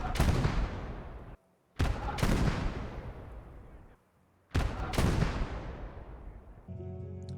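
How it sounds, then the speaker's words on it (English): HEAT tank shells slam into armor without penetrating in Gates of Hell, giving three loud explosive booms, each with a long rumbling decay, separated by brief near-silent gaps. "When a heat round fails to ignite or cut through the steel, it makes an explosive sound."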